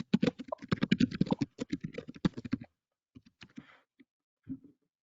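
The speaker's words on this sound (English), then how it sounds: "Can hear somebody typing" Someone types on a computer keyboard during an online public workshop, giving a quick run of dense, close clicks that thins to a few scattered keystrokes before trailing off, with no one speaking.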